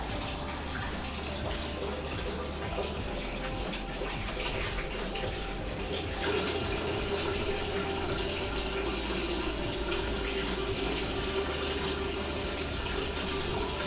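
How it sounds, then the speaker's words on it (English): Tap water runs steadily over fresh mint leaves in a sink, a continuous close splashing rush that holds for the whole stretch and shifts slightly partway through, with no talking. "Here, got another little rinse."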